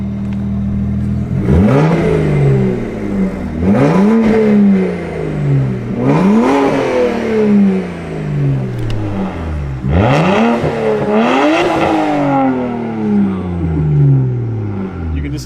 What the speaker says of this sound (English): You can just hear the turbos spooling up